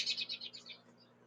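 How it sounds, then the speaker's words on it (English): Birds sing outside early in the morning, a quick run of bright, repeated chirps that fades out, faint and distant. "You hear the loud birds outside."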